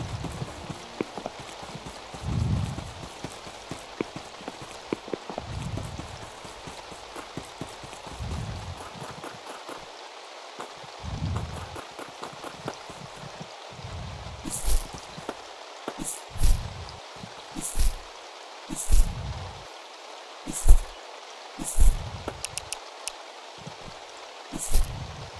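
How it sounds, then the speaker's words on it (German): Rain falls in the farming game Staxel as a steady, soft hiss, with regular thudding footsteps and short clicks sounding over it. "Solange das regnet."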